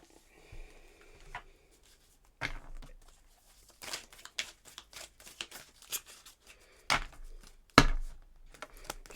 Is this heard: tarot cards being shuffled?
yes